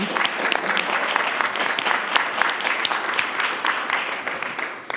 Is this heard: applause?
yes